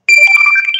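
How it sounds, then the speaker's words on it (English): A mobile phone notification ringtone chimes loud and close, a short bright melodic tone sequence lasting under a second, heard on its own. "Sorry about my phone, guys."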